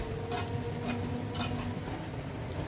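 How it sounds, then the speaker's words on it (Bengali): Onions frying over a medium-high gas flame while being stirred continuously in a pan, with a steady low sizzle and a few light scrapes and clinks of the spatula. "অনবরত নেড়ে চেড়ে পেঁয়াজটাকে আমি খুব ভালো করে ভেজে নেব"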